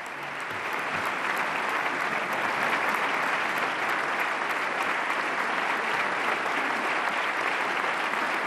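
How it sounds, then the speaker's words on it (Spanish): Sustained applause from parliament deputies giving a standing ovation, heard as a broadcast TV clip: dense, even, continuous clapping from a large crowd that swells in and holds steady throughout. "fíjense en la ovación cerrada que le dedicaban los diputados"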